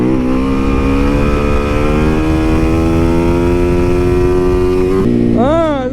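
A motorcycle engine revs steadily and loudly, pitch climbing slowly, then drops and surges in a quick burst of throttle near the end.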